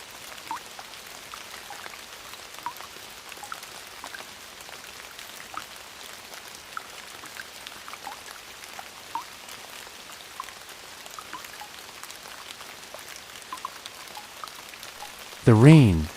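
Gentle, steady rain falling at night, soft and even throughout with scattered droplet patter, under a quiet voice, ending in a brief louder burst.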